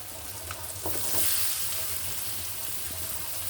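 Potato and drumstick pieces going into a hot pan for a vegetarian drumstick curry, a soft continuous sizzle with a few light clatters near the start, fairly quiet and close, with no talking.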